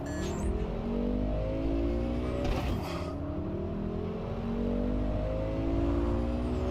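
Cars driving through city streets in the Cyberpunk 2077 video game, with a steady, continuous engine hum and layered whirring traffic that carries on without pause for the whole stretch, at a moderate, even level.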